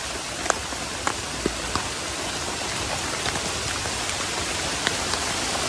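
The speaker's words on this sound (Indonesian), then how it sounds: "Kembali hujan guys." Steady rain pours down outdoors on a mountain hike, a dense even hiss with a few louder drops striking nearby, and no voices.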